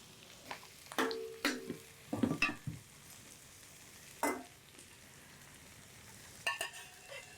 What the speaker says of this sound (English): Add the chilies and bitter bean. Wait for 1 to 2 minutes.